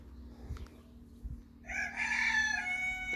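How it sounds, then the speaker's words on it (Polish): A rooster crows loudly partway through, a long rising call after a quiet stretch with a couple of soft thumps. "Koguty pieją, słuchajcie"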